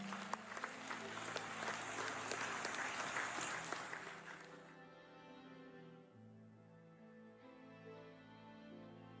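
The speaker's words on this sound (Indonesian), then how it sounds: "berikan tepuk tangan semuanya mana." Applause from an audience at a NasDem party working meeting in Papua, Indonesia, loud and dense for about five seconds, then fading into a quieter room with a low hum.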